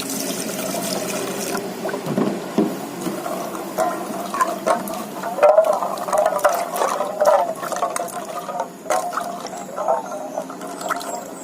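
Water splashing and trickling in bursts as jackfruit seeds are washed under running water, with clattering and scraping mixed in nearby.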